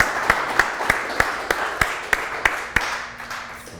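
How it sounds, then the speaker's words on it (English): Scattered claps from a small group, about a dozen distinct sharp hits at a steady pace, fading toward the end. "Let's give Ryan a round of applause."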